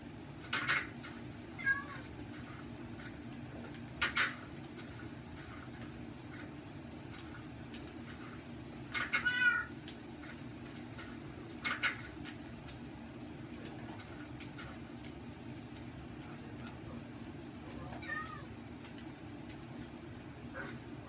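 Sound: cat meowing in video game Minecraft

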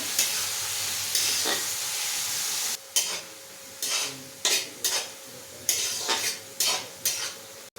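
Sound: frying beans and carrot with salt in a pan

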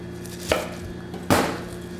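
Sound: chopping fresh Napa cabbage for kimchi

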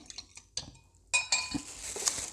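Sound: spoon stirring cornflour slurry into marinade in a bowl

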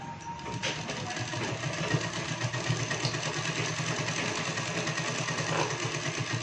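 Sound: sewing machine stitching shirt collar

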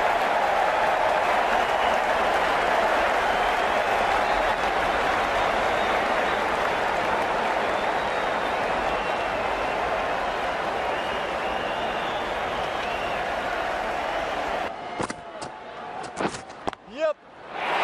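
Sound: cricket stadium crowd cheering, IPL match KKR vs MI

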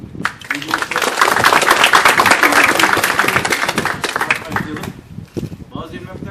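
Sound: applause for the store's builders

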